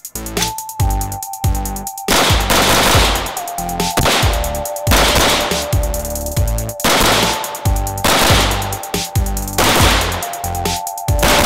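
Custom-built AR-15 rifle firing repeatedly: loud, sharp reports roughly every second or so with heavy echo, a steady high tone running underneath between shots.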